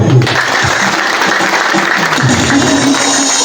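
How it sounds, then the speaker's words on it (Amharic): A church congregation applauds in a dense, continuous burst of clapping that fills the room at close range. "አጨብጭቡ።"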